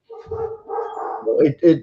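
Dogs at home let out a few short, close barks and yips in quick succession, uneven and a little whiny.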